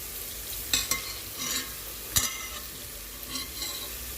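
Sausage chutney is stirred in a frying pan. A low sizzle runs under a few scraping spoon strokes and one sharp knock against the pan.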